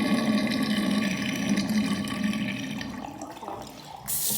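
A tap runs water into a sink to rinse a synthetic wig, a steady splashing flow at close range that thins out near the end before a brief hiss.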